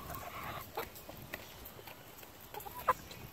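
Quiet, close-by chicken clucks and scratchy shuffling come and go over a low background hum, with a sharper cluck near the end.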